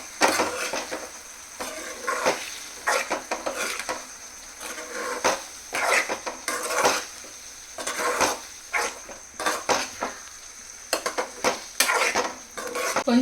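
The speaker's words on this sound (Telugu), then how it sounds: "ఒకసారి కలుపుకుందాం." A spoon stirs curry seasoned with coriander powder and garam masala in a pan, scraping and clinking steadily over a faint sizzle for several seconds with no talking.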